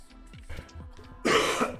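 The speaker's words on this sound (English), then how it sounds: "Sorry for coughing." A person with a lingering cold, streaming live gameplay of Tower of Fantasy, gives a short burst of close, harsh coughs with faint background game sounds underneath.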